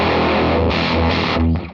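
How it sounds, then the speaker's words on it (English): Electric guitar through an octave-up fuzz in the style of an Octavia, played on the bridge pickup of an FM9 amp modeller: a harsh, screamy, buzzing tone sustaining loud for under two seconds with a few chord changes, no voice. "It's the octave distortion, which I believe is an Octavia"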